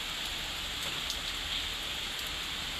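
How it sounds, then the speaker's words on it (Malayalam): Heavy rain falls steadily outdoors during a fishing outing, a dense, even hiss of drops with faint scattered patters, constant and close throughout with no talking. "തകർത്ത് മഴ."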